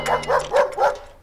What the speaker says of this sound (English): My dog enjoys barking at strangers.